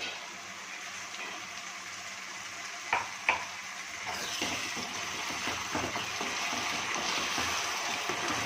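Tomato puree made from three medium tomatoes fries in oil in a pan, giving a steady soft sizzle with a few sharp spoon clicks and scrapes of stirring partway through. Nobody speaks over it.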